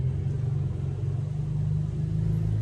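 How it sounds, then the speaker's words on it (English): Loud muscle car passing nearby, a deep, steady engine rumble with a throbbing low exhaust note that holds strong throughout. "That's a muscle car going by."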